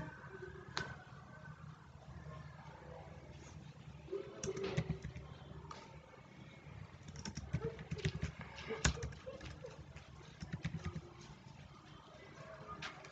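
A customer code is typed on a computer keyboard for an online TNEB electricity bill payment, with scattered irregular key clicks and taps at close range, some louder than others, over a low room hum.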